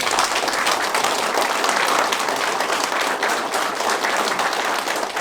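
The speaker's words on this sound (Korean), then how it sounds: "큰 박수 한번 부탁드립니다." A crowd at a campaign office opening for a 2022 South Chungcheong gubernatorial hopeful claps loudly and continuously, dense many-handed applause that fills the room evenly throughout without a break.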